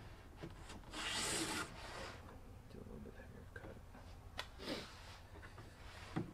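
A hand plane rasps along a curly pecan board for a Shaker bench, a few rubbing strokes with light ticks and taps, fairly quiet and close, with no talk.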